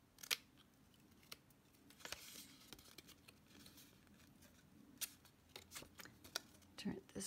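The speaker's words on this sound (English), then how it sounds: "Cut those little triangles off." Scissors snip small triangles off paper pockets in a holiday-themed papercraft build, producing a series of faint, crisp, irregularly spaced clicks and cuts close by, accompanied by soft paper rustling and quiet handling noise.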